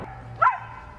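A Siberian husky gives a single short bark or yip, close and fairly loud, with a quiet indoor background.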